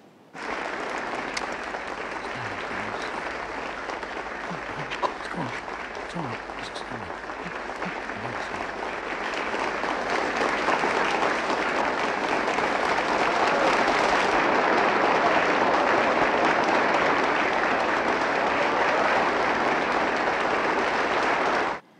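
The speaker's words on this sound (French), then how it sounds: "la séquence de fin où il est applaudi lors de la représentation théâtrale" Theatre audience applauding a performer at the end of a stage show in Elephant Man, a broad continuous roar of many hands that starts steady and grows louder, sustained for about twenty seconds with faint voices underneath.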